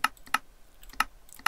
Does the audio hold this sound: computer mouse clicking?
yes